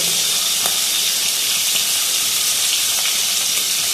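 Whole prawns frying in hot oil with a pinch of turmeric, a loud, steady sizzle and hiss with scattered sharp pops of spattering, close up.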